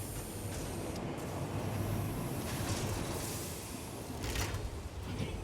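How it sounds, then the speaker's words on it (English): A train in the Satisfactory video game pulls into a platform, giving a soft, continuous rumble with hissing, sliding mechanical noises, heard faintly at a distance. "I hear a train."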